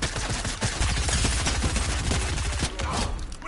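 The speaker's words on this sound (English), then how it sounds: "Deadpool has his own hand cannons." Rapid gunfire from Deadpool's hand cannon pistols in a video game, a dense, continuous fusillade of sharp shots filling the moment at close range.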